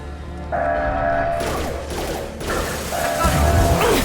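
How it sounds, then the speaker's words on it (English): A heavy metal shutter grinds and clanks shut in the sci-fi shooter Mass Effect 2, a loud mechanical rumble with ratcheting clatter and a few sharp metallic bangs, heard alone over a low game ambience. "Get to the console and close that shutter before they can get through."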